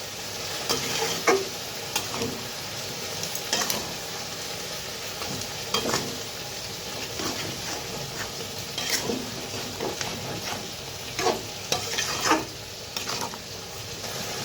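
Jaggery cooks in a pan for a chalta (elephant apple) pickle. It sizzles softly under repeated scraping stirs that come at an irregular pace, close and moderately loud, with no talking.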